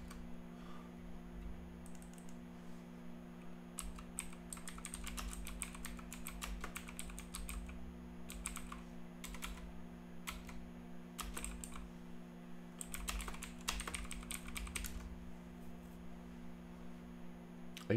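Keys clack on a computer keyboard as a traceroute command is entered, in several short bursts of rapid typing separated by pauses, close and fairly quiet over a steady electrical hum.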